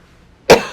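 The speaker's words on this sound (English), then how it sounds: "Okay, sorry about my coughing." A single sharp cough bursts out close to the microphone after a moment of near silence, followed by a brief fading tail.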